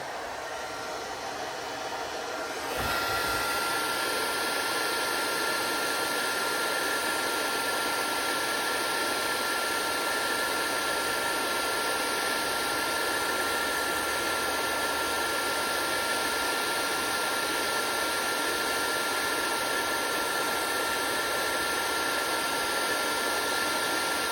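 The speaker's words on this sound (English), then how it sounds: "So let's get the heat gun warming up here." Heat gun switching on and warming up during a lawn mower repair, a click followed by a loud, steady blowing whoosh of fan and air that continues unbroken to the end, close and alone.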